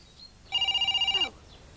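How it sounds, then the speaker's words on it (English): A telephone bell rings once in a single burst of rapid, steady trilling pulses, loud and close, with no talk over it. "Your phone's ringing."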